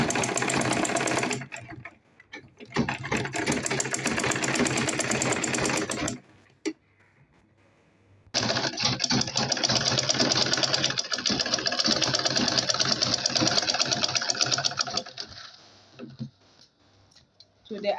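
A sewing machine top stitches a handmade purse in two long runs of rapid, steady mechanical stitching, close and loud, split by a short quiet pause and ending in a few light clicks.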